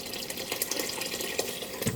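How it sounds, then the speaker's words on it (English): Water pours steadily into a pot of chicken soup, a continuous close splashing rush filling the short moment on its own. "so I am going to add water"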